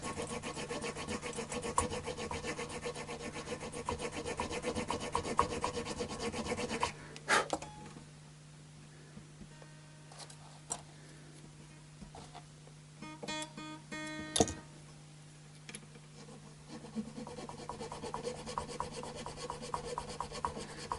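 A fine file scrapes back and forth in a nut slot on a Strat-style guitar neck, giving repeated close rasping strokes, with a quieter pause in the middle before the filing resumes.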